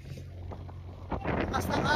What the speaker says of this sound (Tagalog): Lakas ng hangin. Parang may bagyo.